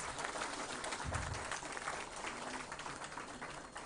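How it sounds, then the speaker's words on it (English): A crowd applauds steadily at a district skill development awards ceremony, with dense, continuous clapping that sounds distant and faint. "can we have a huge round of applause for all the officials and winners?"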